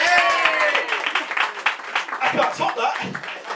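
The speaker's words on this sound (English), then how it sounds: "Clap as if Shaking Stevens is about to walk on." A live audience at a pub show claps and cheers loudly, building into dense, sustained applause with crowd voices mixed through it.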